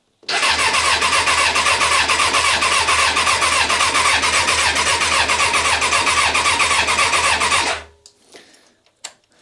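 A Suzuki GSX-R barn-find motorcycle engine cranks over with no fuel, a loud, close, steady whirring churn with the clutch pulled in that runs for about seven seconds before stopping abruptly, followed by faint clicks.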